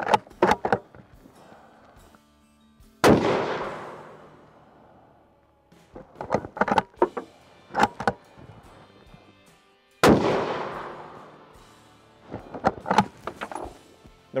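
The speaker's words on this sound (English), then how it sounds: "The rifle just shot a three-shot group." A Springfield Armory Redline Model 2020 rifle fires a three-shot group: loud, sharp reports spaced seconds apart, each with a decaying echo, and short clicking handling noises between shots.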